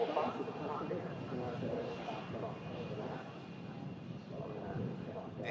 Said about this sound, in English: TUI 737 coming in from Reus.